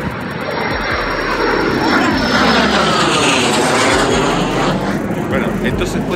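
An airplane takes off at Aeroparque airport with a loud, sustained jet engine roar that rises and holds close by for several seconds, drowning out everything else.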